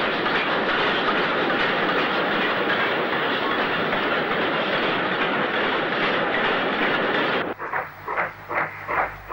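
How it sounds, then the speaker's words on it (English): Black 5 steam locomotive 45272 hauling a fitted express freight southbound in the 1960s, heard as a loud, steady roar of wagons and rhythmic clickety-clack of wheels that suddenly drops away near the end, leaving a few fainter, spaced rumbling beats. "the sight of Black 5 45272 southbound with a fitted express freight"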